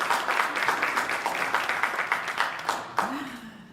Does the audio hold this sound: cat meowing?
no